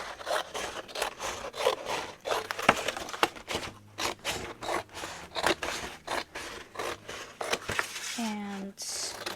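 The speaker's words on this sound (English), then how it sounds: "So let me cut this side, and you only want about 1 inch all the way around." Scissors snip through chipboard to trim album corners, giving a quick run of close, crisp cuts with scraping and rubbing between them, and a short vocal sound near the end.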